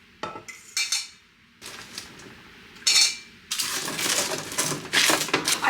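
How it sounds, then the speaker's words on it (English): Tofu being stirred into homemade barbecue sauce in a busy home kitchen, with clinks and scrapes of a utensil against a bowl in irregular bursts, followed by a longer stretch of wet mixing. "I'm gonna take my tofu and mix it into this homemade barbecue"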